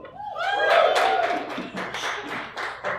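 A comedy show audience at a stand-up night gives a few scattered, uneven claps. A drawn-out vocal cheer or whoop comes first, then a handful of close, sharp hand claps trail off.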